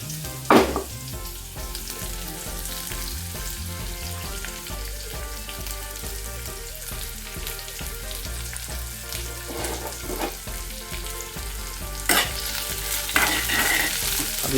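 Chopped onions and chillies frying in a pan while being stirred, a continuous sizzle broken by a few sharp utensil scrapes and knocks at close range, no talking.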